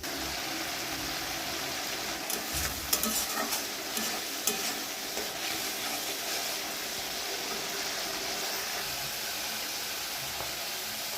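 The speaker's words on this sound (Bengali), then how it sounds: "টমেটো বাটা দেওয়ার পরে আমি ভালো করে কষিয়ে নেব যাতে টমেটোর কাঁচা গন্ধ না থাকে" Tomato paste stir-fried with spices in a pan for a Bengali prawn dopiaza, giving a steady close sizzle with scraping stirs and a few louder clatters, alone without talk.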